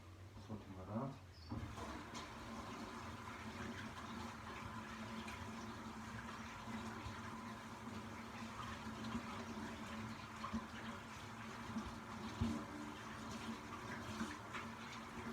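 A steady stream of water runs from a tap as dough is rinsed off hands, a faint, even rush that continues alone after a brief clatter at the start.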